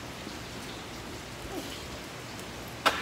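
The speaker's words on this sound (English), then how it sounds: "It's actually raining" Steady rain falling outdoors, a soft, even hiss of drops throughout with one sharper patter near the end and no voices.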